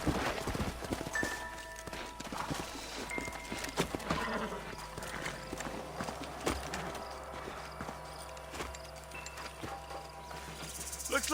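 Horse hooves clip-clop in a Western-style video game setting, a steady patter of hoofbeats with an occasional whinny under a dense bed of music and crickets, moderately faint and continuous, with no talking.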